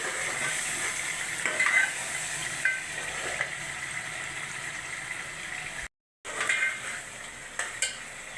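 Saalan for a potato curry is browning in a pot. A steady close sizzle of frying runs throughout, with scraping stirs and light utensil clinks, and there is a brief dropout partway through. No one talks.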